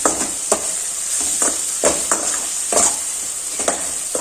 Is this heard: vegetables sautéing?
yes